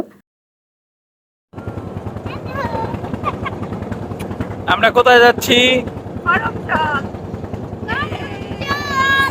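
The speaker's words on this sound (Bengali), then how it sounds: "নদীর পাড়ে চলে আসলাম টলারে উঠেছি টলারটা আমাদের রিসোর্ট থেকে বুক করা ছিল" The engine of a river trawler on a trip to Karamjal runs with a steady, loud, close throbbing drone after a silent start, while people talk over it.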